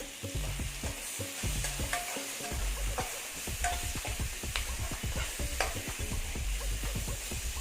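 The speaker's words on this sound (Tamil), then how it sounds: "தக்காளியும் வதங்கட்டும்" Tomatoes and onions fry in a pan for a green pepper fish dish, with a constant sizzle and repeated scraping strokes of a spoon stirring close up.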